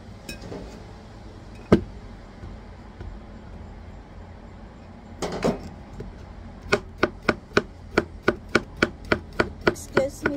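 Patola being chopped on a noisy chopping board, with a few scattered knocks and then a fast, even run of loud, close thuds toward the end.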